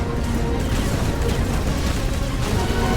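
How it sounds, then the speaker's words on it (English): A space station explodes in the Between The Stars game as a dense, continuous roar of rumbling blast and crashing debris. The noise is loud and steady throughout, with no voices over it. "The space station has been destroyed!"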